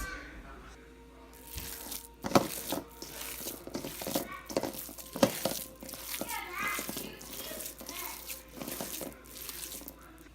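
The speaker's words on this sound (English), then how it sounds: "just mix it all together really well with my hands" Ground beef, rice, mint and flour are squished and kneaded by hand in a bowl, wet squelching and rubbing in uneven bursts, with a voice and other speech over it.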